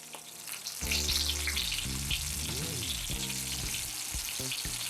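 Steak sears loudly in a hot pan for steak au poivre, a steady close sizzle and crackle with some tonal scraping or clatter layered over it, no talking.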